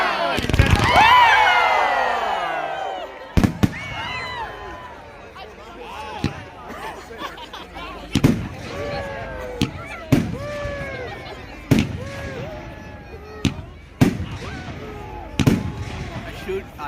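Bonfire Night fireworks in Cambridge, UK, burst one after another, with loud sharp bangs every second or two, crackling and whistling in between. A crowd cheers and voices chatter throughout.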